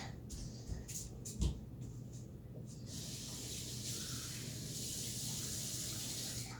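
Tap water runs steadily while a cup is filled for making oobleck, a soft continuous hiss that starts after a few brief clatters and keeps going to the end.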